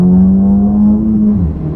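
A Honda Civic Type R drives its first meters after a suspension alignment, its engine holding a steady, loud, close drone that dips slightly in pitch near the end, with no talking.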